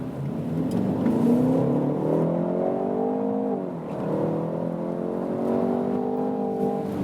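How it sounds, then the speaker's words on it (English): A Jaguar E-PACE P300 R-Dynamic HSE with a 300-horsepower 2-litre four-cylinder engine accelerating hard, revs climbing steadily, dropping briefly at a gear change, then rising again, loud and droning with no talk. "So you see this 300 horsepower small 2-liter 4-cylinder engine is actually quite powerful and doesn't sound too bad when you really push it"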